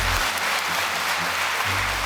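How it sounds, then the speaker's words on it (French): An audience at a student project presentation event applauds, a steady, dense wash of clapping that fills the whole two seconds at a loud, even level. "On peut les applaudir très très fort."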